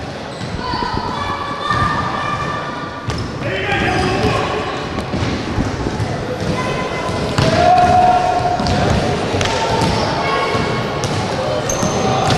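Basketballs bounce and thud in a U16 league three-point shooting contest, with repeated dribbles and ball impacts in an indoor gym while an announcer talks continuously over the action.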